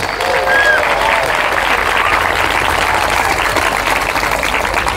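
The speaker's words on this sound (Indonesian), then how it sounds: "Tepuk tangan untuk Indonesia" Sustained applause from a large audience at a religious lecture rolls on as a dense, steady wash of clapping with crowd noise throughout, loud and unbroken.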